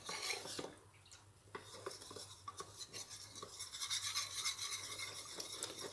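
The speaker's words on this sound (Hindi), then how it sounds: "इसको अच्छी तरह मिक्स करते रहेंगे" A spoon stirs and scrapes inside a pot of boiling milk with cardamom pods, giving a run of close metallic clinks and scraping strokes that come in uneven bursts over a steady low hum.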